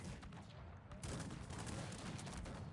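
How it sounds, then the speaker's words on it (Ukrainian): Grapeshot cannon fire in the strategy game Cossacks 3 erupts as a dense, rapid crackling volley of gunfire that grows louder midway and keeps rattling without pause. "Була картеч невеличка, до речі."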